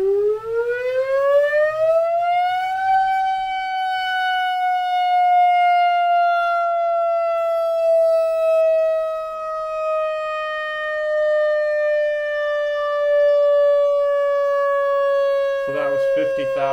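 A Tesla turbine running on cold steam spins up with a loud whine that climbs steeply for about three seconds, then holds as a sustained high tone sinking slowly in pitch, ending with a brief burst of noise.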